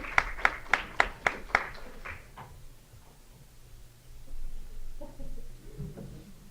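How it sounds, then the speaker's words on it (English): Audience applause at a university English awards night for Masters of Literature candidates: a short run of about six sharp, evenly spaced claps fading out, followed by quiet room murmur and faint voices. "a big round of applause for all our Masters of Literature candidates"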